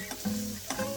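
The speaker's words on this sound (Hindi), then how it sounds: "हम थोड़े हमारे जो chopped carrots हैं, हम थोड़े से इसे फ्राई करेंगे" Chopped carrots frying in a pan, with a steady sizzle and a couple of scraping stirs close by, no voices.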